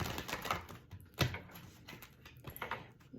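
Tarot cards being shuffled by hand, giving a run of soft papery riffles and taps, with one sharper slap partway through, close and fairly quiet.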